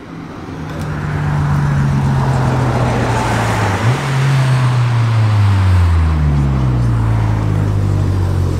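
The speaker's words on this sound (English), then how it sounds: "Honda S2000." A Honda S2000 sports car at a cars and coffee meet, engine note rising as it draws near and passes close by, a loud sustained drone with the pitch shifting.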